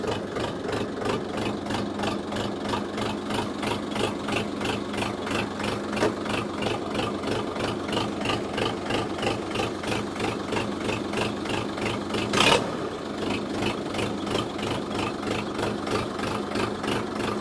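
A FORTE RD-504 minitractor engine idles close by with a steady, pulsing throb and rattle, and a brief louder burst rises near the end before the even idle resumes, with no talking.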